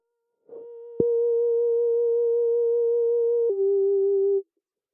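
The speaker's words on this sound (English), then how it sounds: "That sound is really simple. It's just granular delay," A synthetic sustained tone from a loop station granular delay effect, with a glitchy burst at the start, holding steady pitch with a slight warble, then dropping lower before cutting off.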